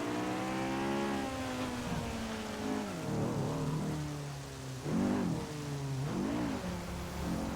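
A Honda S2000 in the GTA 5 game revs hard and accelerates, its engine note climbing and dropping through several gear changes in a loud, steady run with no talk.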